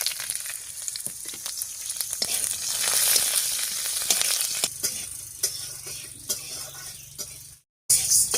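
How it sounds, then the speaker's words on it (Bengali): Green chilli, pepper, garlic, cashews, ginger and a little sesame hit hot mustard oil in a pan, a close crackling sizzle with sharp pops and spits that rises, then eases and cuts off briefly at the end. "এবার তেলের উপর দিয়ে দিচ্ছি কাঁচা লঙ্কা, গোলমরিচ, রসুন, কাজু বাদাম, আদা আর একটুখানি তিল"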